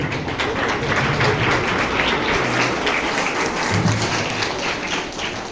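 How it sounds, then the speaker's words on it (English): An audience at a school Teachers' Day celebration claps for students, a dense, steady patter of many hands that carries on evenly without a break. "Please give a big clap for all the students."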